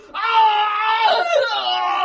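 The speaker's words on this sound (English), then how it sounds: "We heard some more terrible screams." A single long, piercing scream in a dark moorland night scene of an audiobook, rising abruptly, held loud for about two seconds with a wavering, strained quality and nothing else around it.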